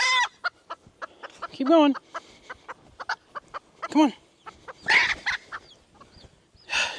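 A hen clucks repeatedly near her nest on a farm, in close, irregular bursts of short clucks with a few louder drawn-out squawks, while someone speaks softly in between.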